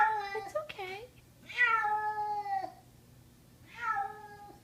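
A distressed kitten gives three loud, drawn-out screaming meows with wavering pitch, separated by short pauses, while a person speaks softly in the background.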